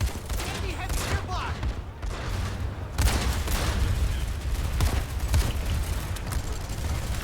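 Bursts of automatic gunfire from the player's weapon in the online shooter PlanetSide 2, rapid crackling volleys layered over a dense battlefield din with a brief lull before the firing resumes.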